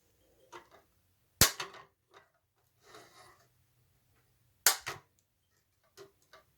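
Flush cutters trim component leads against a circuit board while a PC XT compatible is built. Two sharp, loud snips stand apart, with a few softer clicks and handling rustles between them in an otherwise quiet room.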